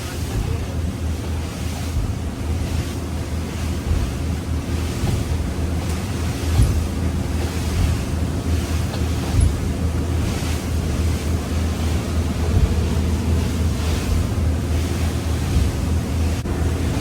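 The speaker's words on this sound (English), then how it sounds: "The wind has picked up a little." Gusting wind buffets the microphone over steady wave wash on open water aboard a yacht during sailing training, a constant close rumble with no talking.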